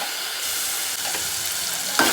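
Tomato paste sizzles and fries in oil, a dense steady hiss close by, with a soft stirring scrape near the end.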